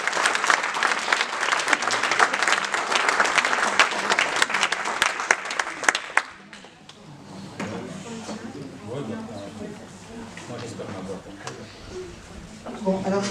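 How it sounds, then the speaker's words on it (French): An audience at a lecture on sugar in Réunion applauds in a dense burst of clapping for about six seconds, then the clapping stops and someone speaks. "je crois qu'on peut encore applaudir notre conférencier ce soir"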